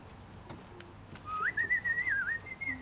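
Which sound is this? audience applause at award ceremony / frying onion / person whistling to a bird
person whistling to a bird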